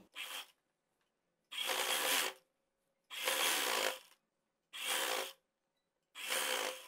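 A sewing machine stitches a folded two-inch cotton fabric strip onto an Angrakha frock, running in five distinct bursts of rapid mechanical whirring separated by short silent pauses, close and clear with no talking.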